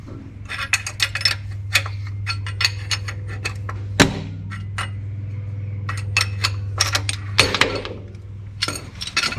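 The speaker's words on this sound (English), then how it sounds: "Tap with a hammer, don't hit the black bit because that's where the bearing is." Rapid clusters of sharp metallic hammer taps on a clutch part during clutch replacement on an N70 Toyota Hilux, irregular in rhythm with a few harder strikes, close by over a steady low hum.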